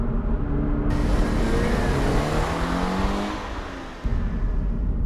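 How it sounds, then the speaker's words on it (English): Toyota GT86 sports car engine with a raspy exhaust note through a downshift, loud and continuous with rising and falling harmonic sweeps, briefly easing off before a sharp burst of revs near the end. "when you drop it down a gear, it's got a fantastic little rasp"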